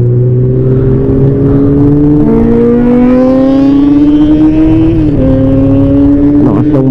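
A big bike motorcycle revs hard while riding toward La Union, its loud, close engine note climbing steadily in pitch with brief gear-change dips, and no voices over it.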